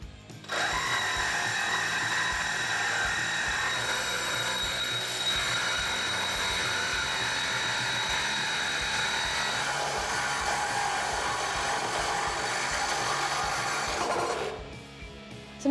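A power tool cuts through the exhaust pipe of a 2018-2020 Mustang GT during a Flowmaster Outlaw axle-back install, a steady loud whining grind that runs for about fourteen seconds before stopping abruptly.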